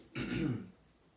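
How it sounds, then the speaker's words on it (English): A single short throat-clearing cough, close and fairly quiet, followed by a brief fading tail. "That was a cough."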